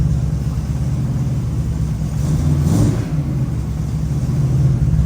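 A Ford Falcon's engine idles steadily with a low, even rumble and a slight rise and fall midway, close and continuous with no talk over it.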